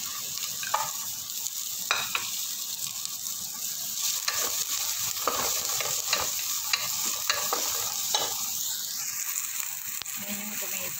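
Garlic and onion sizzle steadily in a hot pan while a utensil stirs and scrapes in short, irregular strokes, with a person talking quietly over the frying.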